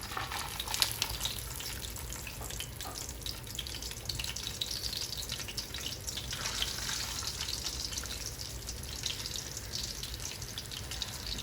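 Spotted grouper frying in hot oil, a dense, steady crackling sizzle with bright spitting pops, close and continuous throughout, no voices.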